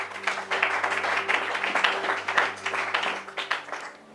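A church congregation applauds the Lord Jesus, a sustained wave of many hands clapping close and loud throughout, with a steady low hum beneath it.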